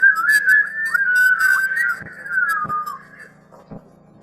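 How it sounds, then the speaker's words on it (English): A boy whistles a bright, lilting tune alone, the melody gliding up and down in short phrases before trailing off, with a few soft taps. "He whistles a merry song."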